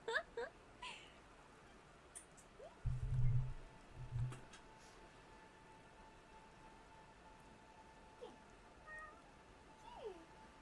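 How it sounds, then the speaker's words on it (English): A cat meows in the Disco Elysium video game, two short, fairly loud calls close together, over a faint, steady patter of rain. "Can you hear the cat?"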